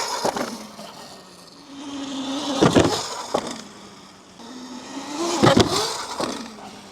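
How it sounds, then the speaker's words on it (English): Front fender of a Leonx X1 Max e-bike bottoming out on its front wheel during an off-road ride, heard as two sharp, loud knocking thuds a few seconds apart over steady rolling and rattling noise. "And then that front fender bottomed out a little bit."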